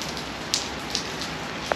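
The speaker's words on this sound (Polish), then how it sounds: "Ale leje deszcz." Heavy spring rain pours down in a steady, close hiss, with a few sharper drops or splashes now and then.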